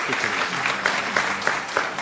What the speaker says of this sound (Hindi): इस बात पे मुबारकबाद दे दे, तालियां बजा।